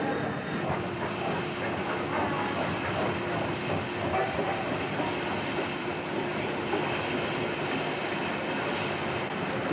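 A D51 steam locomotive hauls a train up a steep grade, a continuous, loud, rumbling roar with a rhythmic clatter that holds steady throughout.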